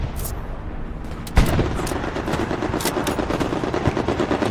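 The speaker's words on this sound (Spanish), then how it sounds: "Estoy disparando adelante" Gunfire in the online WWII shooter Hell Let Loose: a steady rattle of distant machine-gun bursts and scattered shots, with one sharp, louder report near the middle followed by continued dense firing.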